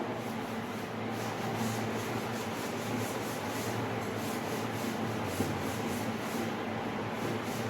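Writing being rubbed off a classroom board during an eleventh-grade physics lesson on error analysis: a steady, continuous scrubbing swish that runs without pause for several seconds, with no voices.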